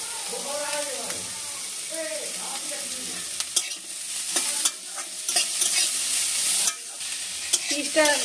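Chopped onions fry in hot oil for a cauliflower cutlet mix, giving a steady close sizzle with repeated stirring scrapes and clatters, while a voice talks quietly over the cooking.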